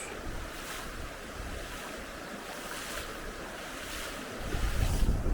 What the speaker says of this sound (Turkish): suya girip dizlerimizin üstüne kadar ıslandığımız çaydan karşıya geçiyoruz